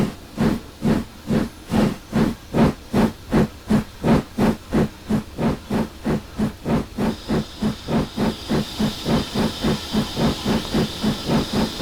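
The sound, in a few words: 1889 Baldwin 4-4-0 steam locomotive chuffing, Train Simulator video game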